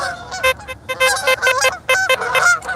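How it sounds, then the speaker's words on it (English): A flock of geese honks in a quick, overlapping series of nasal calls, fairly close and loud, heard outdoors during metal detecting. "Geese."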